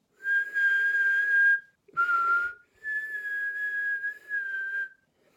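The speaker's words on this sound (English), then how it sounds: "But how to whistle when you're breathing in." Inhaled whistling: clear, sustained high tones in three long notes and one short one, separated by brief breaths, close and alone with no talking.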